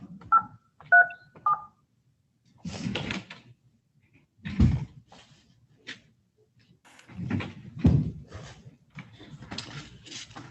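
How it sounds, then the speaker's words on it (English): Telephone keypad dialing tones during a remote court hearing, three short beeps followed by scattered knocks and bumps, fairly quiet. "I'm going to try to dial your phone"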